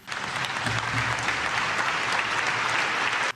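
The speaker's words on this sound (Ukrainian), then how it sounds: "Цю частину промови народні депутати зустрічають оплесками." Members of parliament applaud a speech in a chamber with steady, dense clapping that fills the whole stretch before cutting off abruptly at the end.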